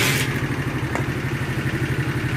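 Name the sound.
50cc motorcycle engine started and running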